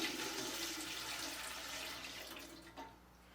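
Elderberry juice poured back into a pot, a brief continuous rushing splash of liquid that tapers off over a few seconds, ending with a small drip, no talking.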